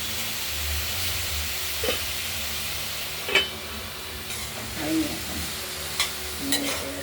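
A spatula stirring pumpkin frying in a pan over a low sizzle, with several scraping knocks at uneven intervals.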